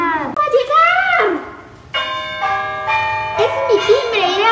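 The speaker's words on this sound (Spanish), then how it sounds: "¡Es mi timbre!" Doorbell playing a bright, chiming melodic tune in a cartoon, heard alongside an animated character's high, expressive voice before and after the chime.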